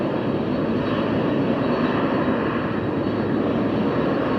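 Freighter jet engines at an airport, a steady loud broadband roar that holds evenly throughout without pauses or voices.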